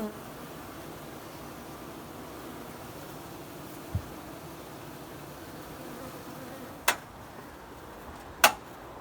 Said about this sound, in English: Bees are starting to pile up down here.